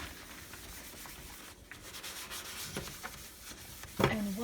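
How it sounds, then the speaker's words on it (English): Wet scrubbing pad rubbing greasy oven surfaces, quiet repeated scouring strokes close up, with a louder scrape near the end. "I have scrubbed all this with a wet scrubbing pad."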